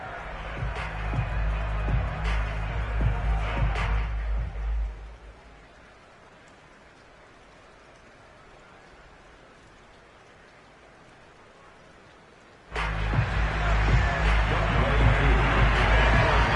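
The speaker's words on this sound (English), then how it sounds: "The rain set to continue as we are underway in the second half." Steady rain hisses over a football stadium in Madden 22, loud and continuous at the start, dropping to a quieter wash for several seconds, then swelling back to full volume near the end.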